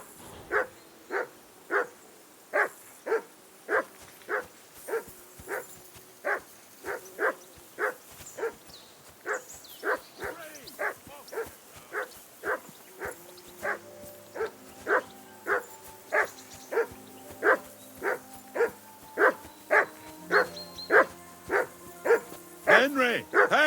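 A dog barks over and over at a steady, regular pace in the medieval role-playing game Kingdom Come Deliverance 2, each bark close and clear, while in-game voices and background sounds join in toward the end.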